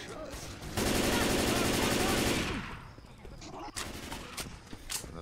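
A loud, rapid burst of automatic gunfire in the video game Left 4 Dead 2 rattles for about two seconds, followed by quieter scattered shots and background noise.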